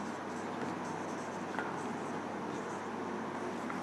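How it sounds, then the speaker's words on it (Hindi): Chalk or marker scratching steadily across a board while a chemistry lesson is written out, a continuous dry scraping with one light tap and no talking over it. "साफ साफ लिख दे रहे हैं"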